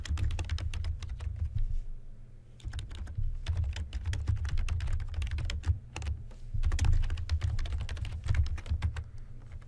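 Steady typing on a computer keyboard, keys clicking quickly and evenly close to the microphone over a low background hum, with a brief pause partway through.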